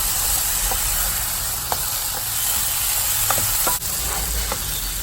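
Chicken fries steadily in a pan with fresh coconut pieces and curry leaves, a continuous close sizzle with occasional stirring clicks and scrapes throughout.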